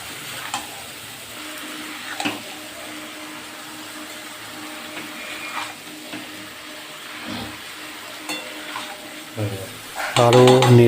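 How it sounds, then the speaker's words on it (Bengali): Chicken seasoned with salt and a little ground black pepper fries in a pan for Bengali chicken kosha, a low steady sizzle broken by scraping stirs and clatters, louder spatula scraping at the end. "আরও নেড়ে চেড়ে নেওয়া হচ্ছে।"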